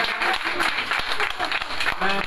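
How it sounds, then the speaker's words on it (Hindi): Audience at a live music program in Patiala giving brisk applause, a dense patter of hand claps with sharper individual claps standing out, under faint voices. "देखो जी जोरदार तालियां होनी चाहिए"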